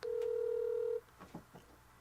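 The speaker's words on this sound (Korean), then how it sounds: "저희가 전화 연결 한번 해보도록 하겠습니다." Steady telephone dial tone holds for about a second while a call is placed, then stops, leaving faint clicks and low line noise.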